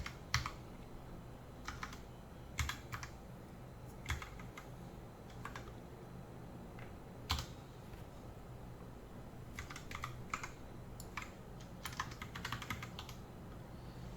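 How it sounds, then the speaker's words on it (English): Someone types on a computer keyboard in short irregular clusters of soft clicks, close and quiet over a faint steady room hum. "In the Explorer, type here your IP address of the server and log in with the credentials."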